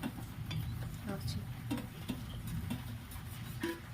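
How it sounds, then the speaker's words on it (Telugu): Peanuts being stirred into melted jaggery for chikki, with soft scraping and clicking strokes of a spoon against a pan, close and quiet, irregular taps over a low background hum. "ఈ విధంగా ప్రతి ఒక్క పల్లి దెబ్బకి బెల్లం పట్టుకునే విధంగా మనం చక్కగా కలుపుకోవాలి."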